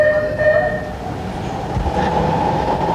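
LA Metro Red Line underground train running to Hollywood, a steady close rumble of rail wheels with a tonal whine over the top, continuous and fairly loud throughout.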